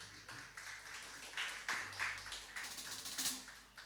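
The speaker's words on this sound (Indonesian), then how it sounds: "Sekali lagi boleh nggak saya minta tepuk tangan buat" An audience claps at the close of an intimate live music session in an analog listening space, a faint, scattered patter of hands rising and falling for a few seconds.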